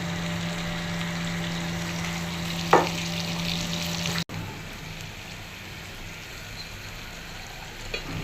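Fish head pieces for a curry fry in a pan, a steady crackling sizzle heard close, with a tonal hum in the first half, a sharp knock midway, a brief cut, and then a slightly quieter sizzle.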